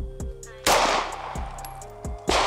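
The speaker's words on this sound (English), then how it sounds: "Shoot that top plate." Handgun shots fired at a steel top plate target on a shooting range, with three sharp, loud reports spaced about a second apart. Each shot is followed by a brief ringing decay.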